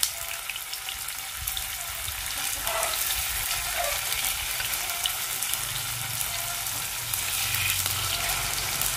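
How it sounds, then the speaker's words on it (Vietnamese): Tofu fries in hot oil in a pan, giving a continuous crackling sizzle that stays steady throughout with no voices. "bây giờ thì chúng ta sẽ cho dầu vô cho tọt đậu hũ vô các bạn. Chúng ta chiên nha."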